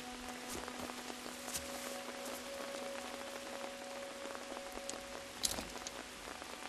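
Steady rainfall in the video game Watch Dogs hisses evenly on surfaces at a moderate level, with a faint sustained tone beneath and a few sharper taps and thumps scattered through.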